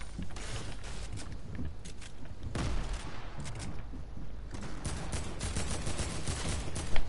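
AK assault rifle fire in a video game, a dense run of rapid, sharp cracks in continuous bursts with brief pauses, fairly loud and close, with no voices over it.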